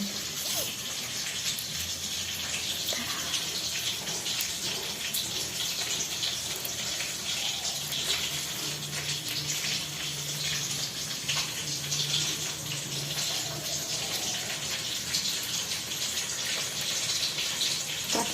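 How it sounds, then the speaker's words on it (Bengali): Mustard flowers washed under a steady stream of running tap water, a continuous close gushing splash with faint handling noises, no voices. "এবার এই ফুলগুলো আমি পরিষ্কার করে ধুয়ে নেব"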